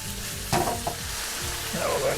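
Pork stir-fried for a Chinese restaurant-style pork and green beans dish, sizzling steadily in a hot pan with a few sharp utensil knocks and scrapes, close and without talk.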